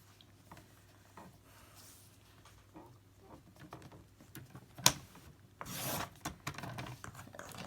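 Planner sheets trimmed on a paper cutter: faint scattered taps and shuffling, then a short rough sliding rasp from the blade, heard close in a quiet room.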